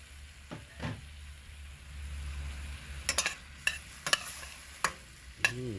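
Garlic and spring onion frying in a pan, a soft low sizzle broken by several sharp scraping and tapping strokes of a utensil against the pan, close by, with no talk.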